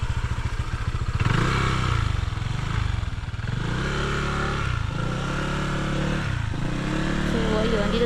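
A motorcycle engine runs close by at a campsite, idling with a throaty, uneven rumble and a couple of revs and dips, while people chat over it.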